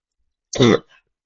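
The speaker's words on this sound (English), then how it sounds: "I have a bit of a cough today" A single short, harsh cough bursts out close by, followed by a faint breathy trailing sound, then silence.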